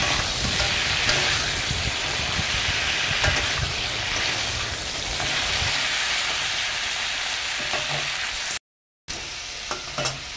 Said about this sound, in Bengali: এবার আমি ফেলে দিলাম কাঁকড়াগুলো। দেখো কত পরিষ্কারভাবে আমি ধুয়ে নিয়েছি। তো এবার নাড়তে থাকবো।